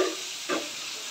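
Turmeric dropped into a sizzling pot of khichuri and stirred, giving a steady close hiss of frying with a brief louder burst midway as the spice and spoon go in.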